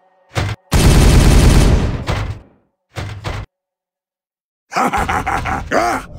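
Gunfire rattles in the Warhammer 40K Regicide video game: a short burst, a long loud fusillade, another brief volley, then a rapid stuttering salvo, separated by silent gaps.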